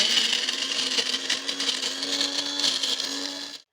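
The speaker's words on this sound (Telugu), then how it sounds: "మిక్సీ ఆడేసుకున్న మసాలాలు." An electric mixer grinder whirs loudly, grinding roasted cashews, garlic, coriander seeds, cumin and tamarind into masala for stuffed brinjal curry, a steady high buzzing motor that cuts off abruptly at the end.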